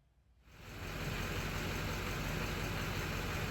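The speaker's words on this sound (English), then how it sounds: "forgive the noise of my truck" A truck's Gen 3 LS V8 idles steadily after starting up, a loud, constant low rumble running alone with no talk, its tone level and unbroken throughout.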